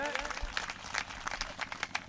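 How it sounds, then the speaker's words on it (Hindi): Scattered clapping from an audience at a village poetry gathering (kavi sammelan) held for Mahatma Jyotiba Phule's birth anniversary, faint and somewhat distant, with someone speaking over it. "मैं चाहता हूं एक बार पूरा सदन भाई कैलाश सिंह के सम्मान में जोरदार तालियां बजाए।"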